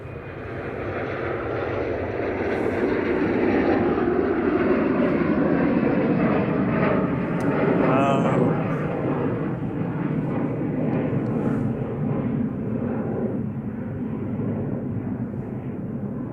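Airliner at Manchester Airport producing a loud, sustained jet engine roar with a slowly shifting pitch as it moves, steady and broad throughout with no talk.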